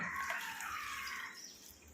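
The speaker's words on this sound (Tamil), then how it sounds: "அப்படியே ஒரு அரை டம்ளரில் 1 டம்ளர் அளவுக்கு நல்லா தண்ணி ஊற்றிக்கணும்." Water trickles steadily, at close range, into a mixer jar of churned cream being turned into butter for homemade ghee. Under the run of water sits a soft, bright splashing that fades a little toward the end, with no voices.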